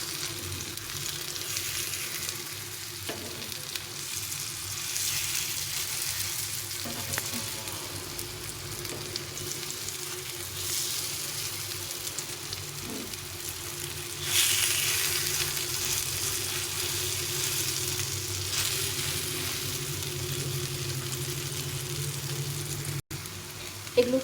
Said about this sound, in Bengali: এভাবে করে ভেজে নিতে হবে সবগুলো।